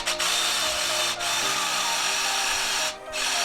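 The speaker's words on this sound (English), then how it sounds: "so we've got our concrete drill bit here" A power drill with a concrete bit grinds steadily into concrete in two or three long bursts, close and loud, with brief pauses between.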